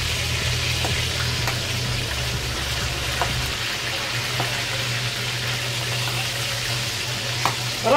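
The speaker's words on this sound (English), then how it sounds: "I hate frying." Food fries in a hot pan with a close, continuous sizzle and crackle. A low hum sits beneath it for the first half, and a few sharper pops and spatters come near the end, with no one speaking.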